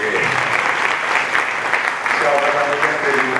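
Steady applause from an audience at a talk on sport, social issues and media language, a dense continuous clapping that holds at even loudness, with a voice speaking faintly underneath in the later part.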